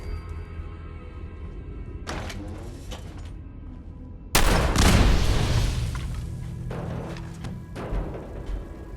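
Explosion in Fallout 4's Nuka-World, an earlier thump followed by a sudden loud broadband blast that rumbles and crackles for several seconds, with faint background ambience before it.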